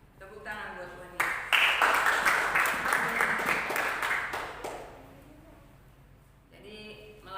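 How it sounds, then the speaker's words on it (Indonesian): Congregation applauding for about four seconds during a church service, a dense burst of clapping that swells in and fades, with a voice speaking before and after. "Tepuk tangan buat Tuhan Yesus."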